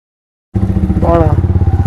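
Motorcycle riding along a narrow road in Kolkata, its engine bursting in suddenly after silence with a loud, close, pulsing throb and a short rising whine over the steady rhythm.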